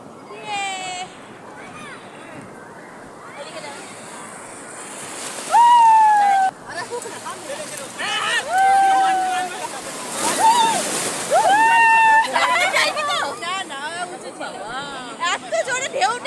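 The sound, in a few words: ocean waves crashing and splashing at the beach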